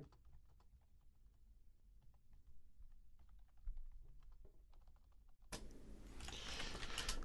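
Someone types on a computer keyboard in a quiet room, a faint, irregular patter of key clicks, before a sudden burst of broadband noise takes over near the end.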